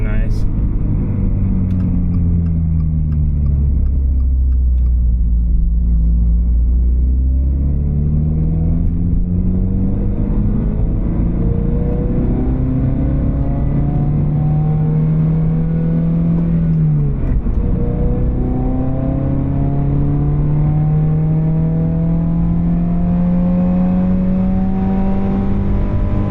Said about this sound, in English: I was revving it out right there